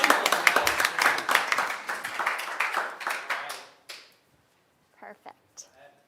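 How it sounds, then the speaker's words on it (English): Audience clapping at a university pitch competition, dense at first and fading after about four seconds, then a few isolated taps in near silence. "Why don't we clap Caroline in"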